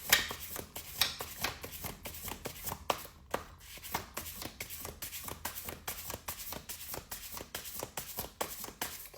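A tarot card deck is shuffled by hand in a fast, steady run of soft riffling slaps and taps, close and fairly quiet, with no talking.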